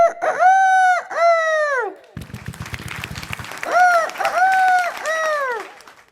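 A mimicry artist on a comedy stage imitates a rooster crowing, giving two long crows, then applause and cheering from the audience, then two more crows.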